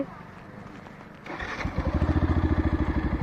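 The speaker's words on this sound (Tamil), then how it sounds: "சரிவா, வண்டி எங்க ஸ்டார்ட் பண்ணு" A motor scooter engine starts up and settles into a steady, near idle with a rapid pulsing putter, after a short stretch of quieter background with faint voices.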